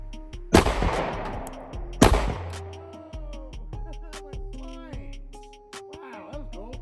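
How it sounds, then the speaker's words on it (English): Two loud, close gunshots about a second and a half apart from a Tisas PX-5.7 pistol firing FMJ rounds, each crack followed by a long ringing tail, with a voice exclaiming afterward. "we're just gonna shoot some silly strings, see what these FMJs do"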